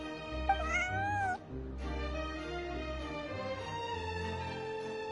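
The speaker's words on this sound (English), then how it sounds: "Yeah, that's right. Good kitty." A cat meows in the video game Genshin Impact, giving one clear, rising and falling meow up close over a steady game background hum.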